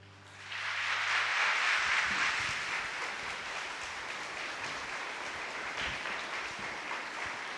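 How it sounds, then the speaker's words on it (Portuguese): An audience at a religious gathering with a Franciscan bishop breaks into applause, rising quickly into a full, dense roar of clapping that holds steady for several seconds in a large reverberant space. "Eu dirijo essas palmas ao nosso querido Divino Espírito Santo"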